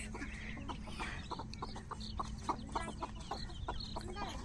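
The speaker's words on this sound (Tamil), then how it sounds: "அந்த கோழியை அடைச்சி போட்டிருக்கோம்ல அதான் சண்டைக்கு வராங்க" Chickens penned up on a farm cluck in a steady, overlapping chorus of short calls at close range, with a constant low rumble of background noise underneath and no voices.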